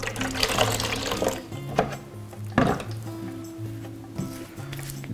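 Water runs and splashes as an old, dusty taxidermy trophy with its skull is washed during restoration, a steady close wash with a few louder splashes and clunks.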